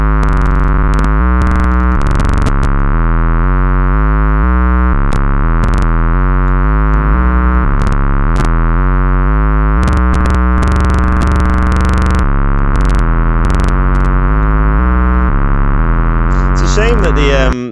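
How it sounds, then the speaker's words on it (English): A modular synthesizer sounds loud and sustained with shifting tones, while changes to the reverb and delay time add bursts of clicky, noisy crackle and glitchy swept artifacts. "changing the time on a reverb and a delay appears to cause a fair amount of noise there"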